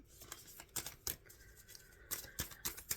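Tarot cards being shuffled close up, a run of quick papery riffles and soft slaps coming in irregular bursts with pauses between them.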